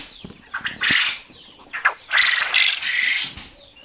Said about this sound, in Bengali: আলহামদুলিল্লাহ কোয়েল পাখিগুলো সুস্থ আছে